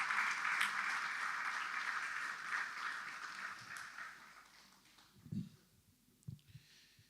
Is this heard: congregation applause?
yes